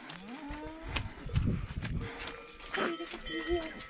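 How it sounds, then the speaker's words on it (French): Cattle lowing on a foggy mountain trail during the Dents du Midi trail race, several drawn-out moos close by and nearby, with people talking briefly between them. "on est avec les vaches et le brouillard"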